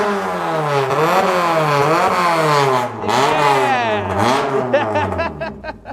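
A Kanjo-style Honda Civic exhaust revs hard and loud up close, engine pitch climbing and dropping in repeated sweeps through several blips, with a raspy tone that ends in crackling pops.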